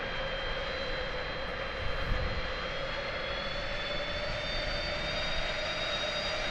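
A steady jet engine roar of an EasyJet A320 in Microsoft Flight Simulator 2020 drones on at an even level, a continuous airliner whine and rumble with no voices.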